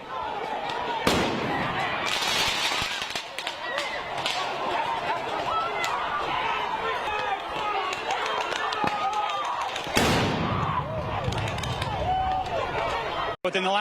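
Flashbangs go off at a street protest as mounted police clear the road, sharp bangs cutting through a continuous noisy crowd din, with a couple of especially loud blasts standing out and people talking throughout.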